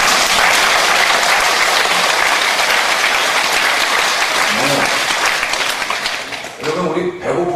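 Loud, sustained applause from a large church congregation indoors, steady clapping that thins slightly toward the end.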